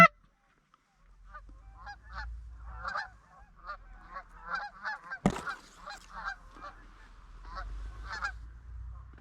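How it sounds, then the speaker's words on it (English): Geese honk repeatedly in a flock arriving over a warm-weather January goose hunt, the calls moderately near and steady above a low rumble, with one sharp loud knock partway through. "That's geese."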